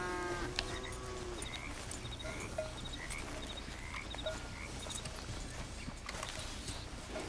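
Cattle lowing in a Red Dead Redemption 2 pen, several moos rising over a dense bed of frog-like croaks, hoof clip-clop and game ambience, steady and moderately near with no talk.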